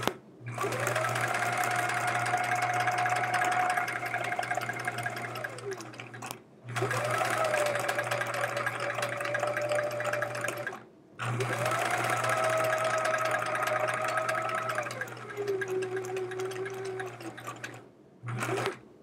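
A sewing machine stitches quilt fabric with its presser foot loosened all the way, running loud and steady in three long bursts with short pauses between them.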